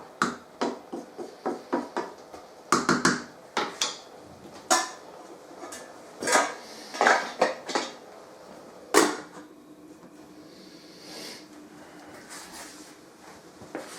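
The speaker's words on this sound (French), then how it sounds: "Moi je la remue pour pas qu'elle attache au fond" Fruit compote is stirred in a pot, with a series of irregular scraping and knocking clacks of the spoon against the sides, close, coming in bursts then thinning out into quieter pauses.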